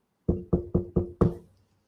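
Five firm knocks land on a door in a steady, evenly spaced run, close and distinct, the last one a little heavier, as a sound effect in a children's story.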